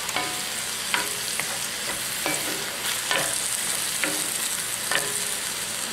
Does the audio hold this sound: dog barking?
no